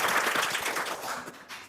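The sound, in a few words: audience applauding group 1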